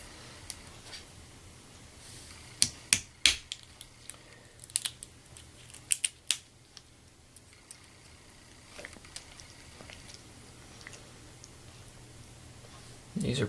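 Acorn shells crack and split open while being processed by hand, giving several sharp, close snaps spaced irregularly over a quiet background, with a few softer clicks between them.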